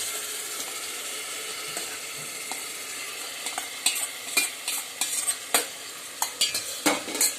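Marinated country chicken is stirred into fried masala in a cooker pot, with a spoon scraping and clinking against the metal in repeated strokes over a steady sizzle that grows busier toward the end.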